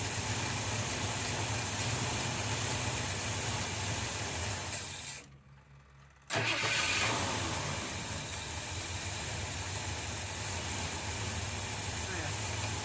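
A 1978 Ford F150 engine idles steadily, cuts out briefly into near silence, then cranks and fires back up and settles into a loud, even idle close by.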